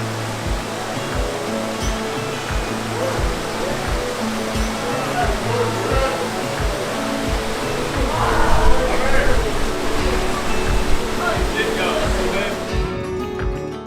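Steady, broad rushing roar of a waterfall at a swimming area on a hot day, a constant close wash of falling water with a faint low pulsing underneath.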